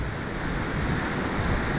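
Steady storm wind in Popovka, Crimea rushes and buffets continuously, a low broadband roar with no voices, constant in level throughout.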